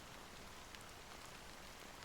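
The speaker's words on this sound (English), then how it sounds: "how long has this rain been going on for?" Rain pours steadily in the video game Honkai Star Rail, a soft, even hiss of falling drops that runs unbroken throughout, faint and with no voices over it.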